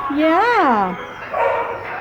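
An American Bulldog mix in a shelter kennel gives a single drawn-out, rising-and-falling vocal cry, close and fairly loud, with a person talking softly over it.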